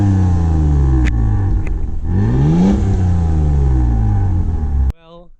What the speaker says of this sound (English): We're gonna give you a couple of juicy revs.